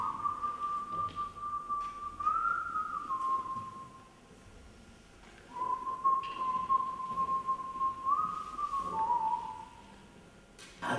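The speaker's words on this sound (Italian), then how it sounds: "Si è messo a fischiettare" A man whistles a melodic tune in two long phrases separated by a pause, clear and fairly close against a quiet background.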